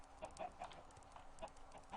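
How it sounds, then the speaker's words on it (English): Chickens clucking in a farming video game, a run of short, repeated clucks and squawks across two seconds, fairly faint, with no talking over them. "I'm gonna punch you, chicken. I can't even punch you. It's the indestructible chicken."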